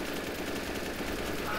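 Rapid automatic fire from an AK rifle in the shooter game CS:GO, a dense continuous burst of shots at close range, filling the whole moment without pause.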